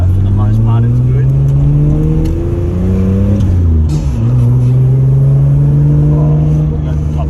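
An older six-cylinder manual car driving, its engine droning loud and close with rising and falling pitch as it shifts through gears, while someone talks over it.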